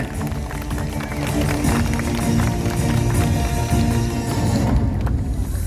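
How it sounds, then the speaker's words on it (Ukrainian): An audience at a city-day photo contest awards ceremony breaks into sustained applause for a prize winner, a loud, dense wash of clapping that holds steady throughout with some voices mixed in. "Підтримуємо, підтримуємо бурхливими оплесками."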